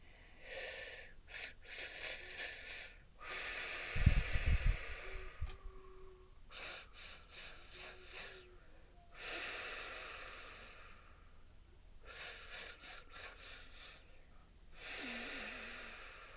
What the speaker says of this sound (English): let's disengage our stress response with the bunny breathing